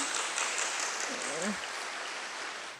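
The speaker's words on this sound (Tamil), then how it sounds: "ஒரு பெரிய கைத்தட்டல் கொடுங்க" Audience applause at a Tamil-language event honouring a mother, a broad steady wash of clapping lasting a few seconds with a brief voice mixed in near the middle.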